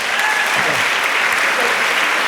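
Loud, dense applause from a large debate audience, continuous and even throughout, close and enveloping with no pauses.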